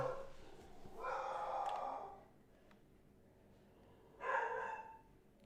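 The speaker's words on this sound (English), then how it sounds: "my dog is barking" Two short, muffled dog barks about three seconds apart, fairly quiet against a faint background hum.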